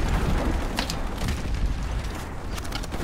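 A grenade goes off in Call of Duty 4 Remastered: a heavy, rumbling blast with a few sharp pops and crackles trailing through a low, noisy battle bed.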